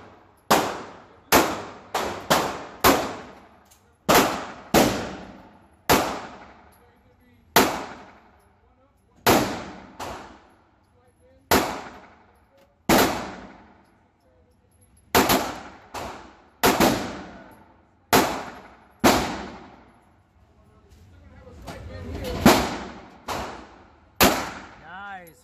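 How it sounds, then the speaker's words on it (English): Sharp, separate shots from a .22 firearm with a red dot sight at a shooting range, fired one at a time with short gaps, some in quick pairs, each cracking close and loud before decaying, with no talk. "This is your warm up after a year not shooting a gun. Your warm up with 22."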